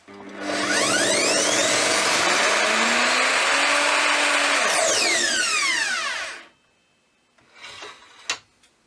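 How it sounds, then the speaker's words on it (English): An Evolution R255SMS mitre saw with soft start and braked blade spins up, whines loudly and steadily for several seconds, then winds down quickly as the brake stops it, followed by a few faint clunks and a sharp click. "It has a braked blade, so it means that when I let go of the trigger, the blade stops a lot sooner"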